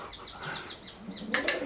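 A pigeon flaps off inside an old farmhouse, a run of rhythmic wingbeats followed by two sharper, louder flaps close by.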